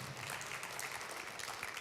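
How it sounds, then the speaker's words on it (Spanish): Church congregation clapping in applause for the Lord during a Spanish-language sermon, a dense continuous wash of many hands close by, steady throughout with no pauses. "Dan un aplauso a mi Señor."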